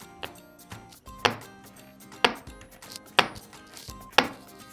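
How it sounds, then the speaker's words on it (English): A plastic toy monster's suction cup feet stick and pop off a surface, giving four sharp, close popping clicks spaced about a second apart, with small softer taps in between. "Who doesn't love that suction cup noise?"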